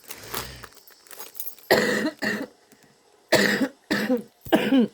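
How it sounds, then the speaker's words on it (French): Several harsh coughs close to the microphone, coming in separate bursts with short pauses between them. "il fait tellement chaud que je tousse beaucoup"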